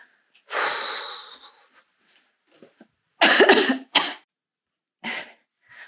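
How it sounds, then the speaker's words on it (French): A woman with a cold coughs in several separate bouts, a long harsh cough first, then a cluster of sharp coughs after a pause and a smaller one near the end, close and loud, with quiet breathing between them. "Je tousse."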